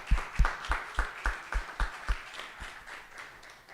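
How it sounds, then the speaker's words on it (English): A church congregation gives a short round of applause for its minister search committee, sparse individual claps ringing out in an uneven rhythm and thinning toward the end. "Let's give them a round of applause"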